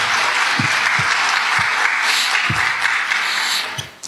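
Audience at a Spiritist conference applauding in a hall, sustained dense clapping from many hands with a few sharp close claps standing out, fading slightly at the end.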